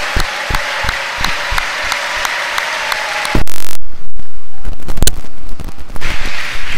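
A church congregation claps in praise of God, a dense, steady applause for about three seconds before a sudden loud burst of mixed, choppier noise takes over.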